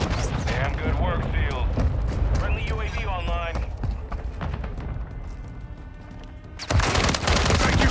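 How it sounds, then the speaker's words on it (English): Gunfire in the Call of Duty: Modern Warfare III Karachi map, rapid automatic bursts and sharp cracks layered with game effects and radio chatter, loud and dense, with a player talking over the battle. "I'm taking effective fire!"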